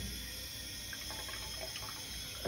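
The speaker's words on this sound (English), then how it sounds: "So I'm gonna trickle some water," Hot water trickles from a hose pushed down a greasy apartment drain, a steady soft splashing wash with no talk.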